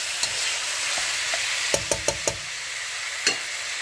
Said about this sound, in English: Just gonna stir fry it until it's lightly brown in color.